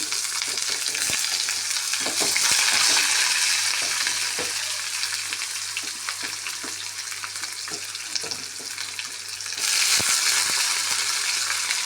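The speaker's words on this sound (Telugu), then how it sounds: "బగారు వేసిన తర్వాత దాంట్లో ఎర్రగడ్డ వేస్తాను" Onion frying in hot tempering oil for chana bada curry, a loud, steady close sizzle with stirring scrapes, swelling louder near the start and again toward the end.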